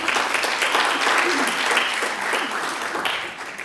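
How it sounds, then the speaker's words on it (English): An audience claps for the humanoid robot Amika at a talk, a dense, steady round of applause that fades slightly toward the end, with a voice faintly underneath. "So I think a round of applause would be good for Amika."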